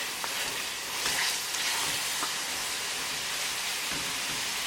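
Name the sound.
minced lamb frying and being stirred on high gas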